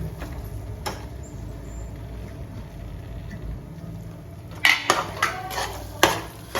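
Wild vegetable added to hot oil in a pan and stirred, a soft low background hum followed by several sharp metallic clinks and scrapes of utensils against the pan near the end, no talk.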